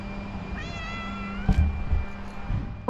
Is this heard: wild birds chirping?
no